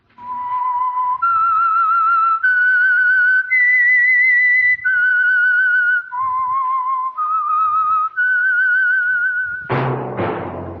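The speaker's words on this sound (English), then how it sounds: "That whistle is your signal for the Signal Oil Program, The Whistler." The whistled theme of The Whistler, a vintage radio mystery program: a lone, clear melodic tune of sustained, sliding notes, loud and close, ending in a sudden loud crashing burst.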